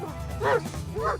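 A white Pyrenean Mountain Dog (patou) gives two deep woofing barks, close and fairly loud, over a low background murmur.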